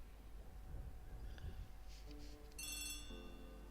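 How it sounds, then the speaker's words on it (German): An old telephone bell rings faintly in a room, a brief bright trilling burst after quiet background murmur. "Poirot, the telephone."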